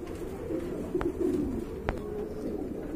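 A pair of racer pigeons coo softly in low, rounded bursts, with a couple of sharp clicks between them in a quiet room.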